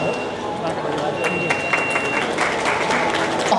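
Audience applause fills a closing ceremony at a computer trade fair, a dense, steady wash of clapping from a crowd that keeps going throughout, with murmurs and a voice in the background.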